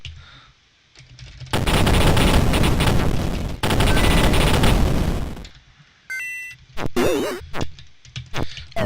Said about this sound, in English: So you're just spamming your pistol